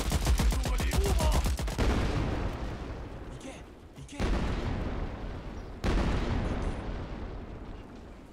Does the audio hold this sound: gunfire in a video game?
yes